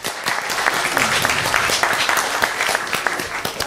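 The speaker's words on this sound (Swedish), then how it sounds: "En applåd." A studio audience claps steadily through the whole stretch, loud and close, welcoming a young performer onto a children's show stage, with some talk mixed into the clapping.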